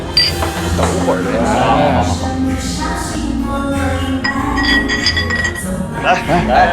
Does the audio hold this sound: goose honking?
no